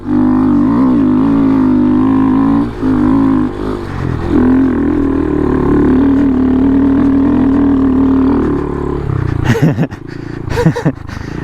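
A Honda Grom motorcycle engine holds a loud, steady buzzing rev through a wheelie, wavering in pitch and dipping briefly before cutting off into a few sharp clatters at the end.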